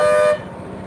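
A single vehicle horn blares briefly at a busy road turning, then cuts off, leaving the low rumble of passing traffic.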